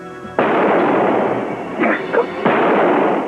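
Gunshots from the 1980 season finale of the TV drama Dallas ring out as loud, sharp broadband blasts, a sudden first burst followed by further shots about two seconds later, with no talk.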